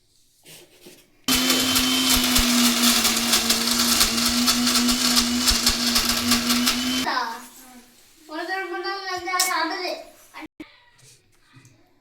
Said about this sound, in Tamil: இப்போ கடலப்பருப்பு அரைச்சிட்டு வந்துடலாம்